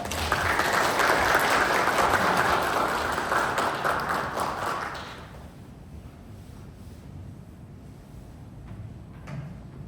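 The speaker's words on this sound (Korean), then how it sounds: "큰 박수로 맞아주시기 바랍니다." Applause from a company all-staff meeting welcomes a new employee, loud and dense for about five seconds before fading to scattered claps and room noise.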